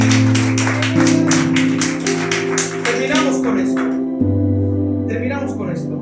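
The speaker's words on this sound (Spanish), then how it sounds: "¿Por qué no le da un fuerte aplauso a Él?" A church congregation claps in quick, even rhythm over sustained organ-like chords, the clapping strong at first, then fading out partway through while the music carries on.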